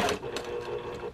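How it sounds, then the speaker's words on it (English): A sewing machine stitches a pocket onto interfaced outer fabric, a quiet, quick mechanical whir with soft rhythmic needle ticks over about a second. "Sewing my pocket on to my interfaced outer fabric here."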